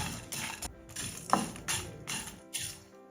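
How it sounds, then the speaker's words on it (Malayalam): A gas stove knob is turned to shut off the flame after roasting garam masala spices, making a few quiet mechanical clicks and ratchet-like ticks spaced out over a couple of seconds. "അപ്പോൾ ഞാൻ ഇതിൻ്റെ ഫ്ലെയിം ഓഫ് ചെയ്ത് വെച്ചിരിക്കുകയാണേ"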